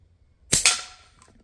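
A Derya TM LA .22LR rifle fires one sharp, close shot, a crisp crack followed by a quick secondary snap and brief fading tail in an otherwise quiet setting.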